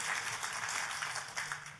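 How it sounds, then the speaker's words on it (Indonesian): Sustained applause from a church congregation praising God, broadband clapping filling the room steadily for the whole stretch with no voices on top. "Tepuk tangannya yang paling meriah buat Tuhan kita."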